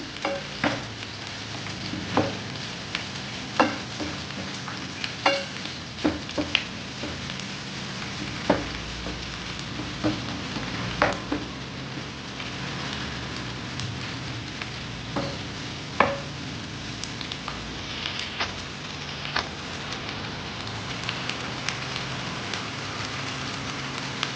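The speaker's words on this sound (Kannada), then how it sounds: "ಹುಣಸೆ ಹಣ್ಣು ಕೂಡ ನಾನು ಎಣ್ಣೆ ಒಳಗೆ ಫ್ರೈ ಮಾಡಬೇಕು ಇದೆಲ್ಲ ಒಂದು ಸ್ವಲ್ಪ ಎಣ್ಣೆ ಒಳಗೆ ಫ್ರೈ ಆಗಬೇಕು" Tamarind fries in hot oil for a spicy garlic chutney, giving a steady crackling sizzle with scattered sharp pops and occasional stirring scrapes, moderately close and without talk.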